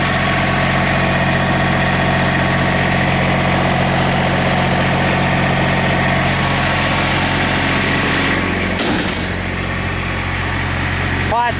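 A three-cylinder diesel engine on a four-bulb Wacker light tower running steadily, a loud continuous idle with a low rumble and vibration, with a brief clunk or handling noise near the end.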